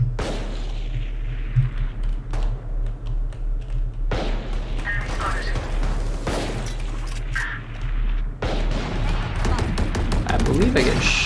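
Gunfire from the video game Valorant, heard as bursts of shots and fusillades over loud game audio, with talking mixed in.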